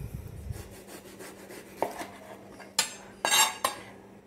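A knife cuts an eggplant into thick rings, giving a few sharp, woody chops against a cutting surface after a quiet stretch. The cuts come close up and spaced apart, with no voices.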